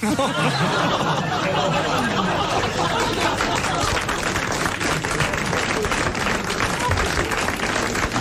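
Studio audience on a 1987 French television talk show breaks into sustained applause mixed with laughter and chatter, a dense, steady crowd wash lasting the whole stretch.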